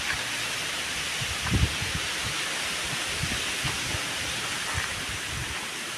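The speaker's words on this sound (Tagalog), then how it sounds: "Lakas pa talaga ng hangin" Strong wind roars steadily, with low gusts buffeting and rumbling throughout and no voices.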